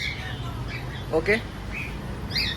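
Cockatiels in a breeding aviary let out a few brief chirps and short squawks, fairly faint and scattered, over a steady low background hum, while a person speaks briefly.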